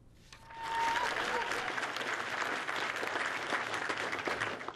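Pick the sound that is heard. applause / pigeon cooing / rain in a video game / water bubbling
applause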